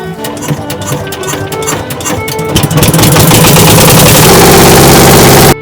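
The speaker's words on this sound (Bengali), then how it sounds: "আমাদের নৌকা এখন আল্লাহ রহমতে স্টার্ট করলো" A wooden passenger boat's engine starts up at Bisanakandi, Sylhet, and settles into a loud, steady mechanical chugging that grows more continuous, with some clattering early on.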